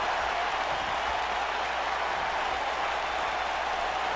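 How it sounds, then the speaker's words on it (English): Arena crowd in WWE 2K19 keeps up a steady, dense roar of cheering and chanting, a continuous wall of noise with no clear individual voices or pauses. "These yes chants fans do are an absolute mockery to Daniel Bryan."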